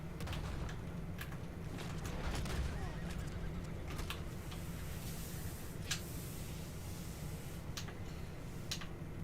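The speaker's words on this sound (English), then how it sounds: "is that a horse? No, it's just, yeah, it's just a horse" A faint horse whinny in the video game Red Dead Online sounds amid a busy, noisy background of scattered sharp clicks and pops.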